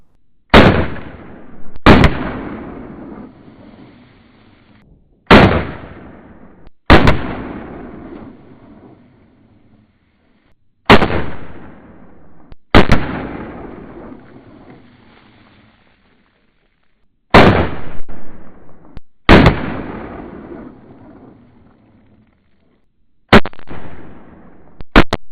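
Remington carbine chambered in .45 Colt fires eight loud, sharp shots in spaced pairs and singles, each crack followed by a decaying outdoor echo, with no talking.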